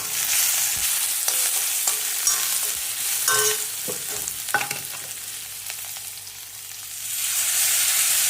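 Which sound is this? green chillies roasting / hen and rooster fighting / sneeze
green chillies roasting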